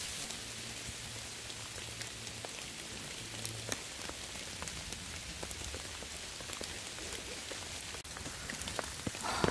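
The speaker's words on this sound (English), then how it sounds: "the freezing rain is back because it never ends" Freezing rain at -4 °C falls steadily on surfaces at a winter camp, making a dense, continuous patter with scattered sharper drop ticks throughout, close and even in loudness.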